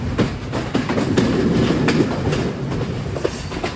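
Yal Devi Express train rolling into Anuradhapura station, steady close rumble with repeated clickety-clack wheel beats over the rails, loud and without voices.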